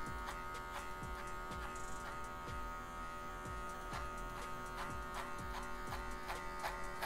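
Electric hair clippers fitted with a number 2 guard cutting hair in a fade, a constant close buzz with a stable tone and rhythmic swishing strokes repeating through it.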